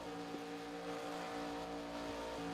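Race truck engines hold a steady, sustained drone on a short oval track, a continuous layered hum of several motors at moderate distance with no speech over it.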